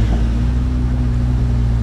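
An Aston Martin DBS Superleggera on the streets of Monaco during the Grand Prix gives a loud, close, steady low engine rumble for a brief moment.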